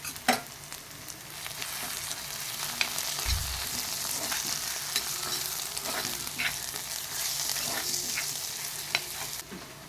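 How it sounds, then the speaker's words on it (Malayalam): Tomatoes sautéing with salt in a pan for a bread pizza topping, a steady close sizzle with scattered crackles and a brief low knock of stirring. "ഉപ്പിട്ട് നന്നായിട്ട് വഴറ്റി എടുക്കുക."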